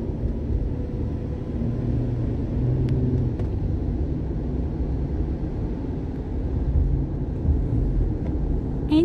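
Car driving along a road at night, heard from inside as a steady low rumble of engine and road noise that holds for about nine seconds, with a couple of faint clicks and no talking.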